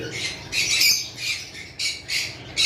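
A breeding pair of pineapple conure parrots squawk in a bird-keeping setting: loud, harsh, repeated calls in rapid pulses, close by, with no voices.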